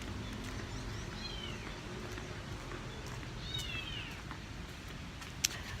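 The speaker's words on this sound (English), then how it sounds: "now I hear a kitten." A kitten meows twice, high and thin, the cries faint against a steady outdoor hum.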